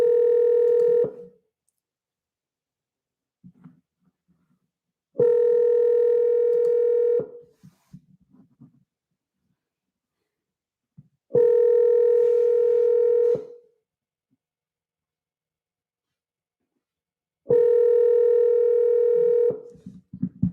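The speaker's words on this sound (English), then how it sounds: "let's go ahead and make this call here and see what happens" A telephone placing a call repeats a steady dial-type tone four times, each lasting about two seconds with long silent gaps between, and faint keypad-like clicks between the tones.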